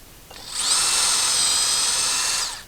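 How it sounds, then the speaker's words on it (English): A power drill bores through a door, a steady high-pitched whine that spins up, holds for about two seconds and winds down, close and loud with no talk. "to use a backing board here to prevent splintering as the drill goes through the door"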